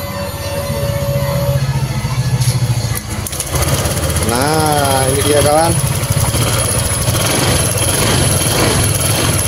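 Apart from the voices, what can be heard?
Honda Vario 150 scooter engine starting after new ignition coil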